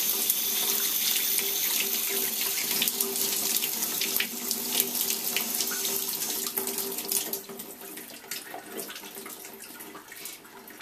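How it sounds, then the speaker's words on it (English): A tap runs steadily into a sink, water splashing and gurgling over a trout being rinsed while cleaned, continuous and moderately close, easing slightly toward the end. "Shoot it with some water."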